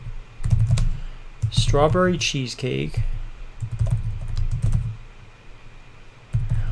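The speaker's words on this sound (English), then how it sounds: "I'm typing it now." Fingers tap out bursts of keystrokes on a computer keyboard, close and clicky, pausing while someone speaks a few words in the middle before the typing resumes.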